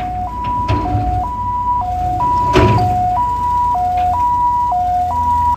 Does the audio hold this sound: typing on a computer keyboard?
no